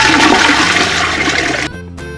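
A direct-flush toilet holding blue-dyed water flushes with a loud, close rushing surge of water that runs for about two seconds, then cuts off into a quieter trickle and refill.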